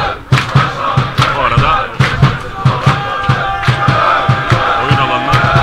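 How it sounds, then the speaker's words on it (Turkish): Football supporters of both sides chant loudly at a play-off match between Çeşme Belediyespor and Ödemişspor, a dense crowd roar punctuated by regular rhythmic claps or drum thumps, with a commentator talking over it. "İki ekip taraftarlarının da yoğun bir tezahüratı söz konusu."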